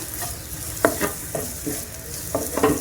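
Cauliflower pieces fry in a hot pan with a steady close sizzle, while a spoon stirs and scrapes in a few uneven strokes over the hiss.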